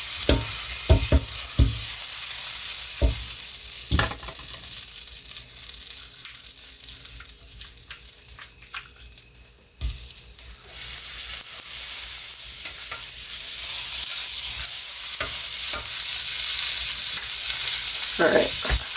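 Tilapia fillets frying in a skillet for fish tacos: a loud, continuous sizzle close up, punctuated by sharp spatula clicks and scrapes, easing briefly midway before surging again.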